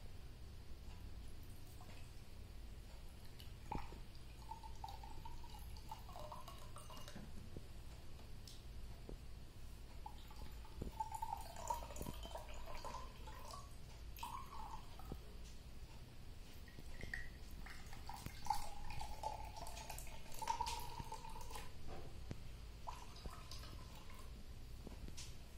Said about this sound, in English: First step for this experiment is to fill all the 3 glasses with water.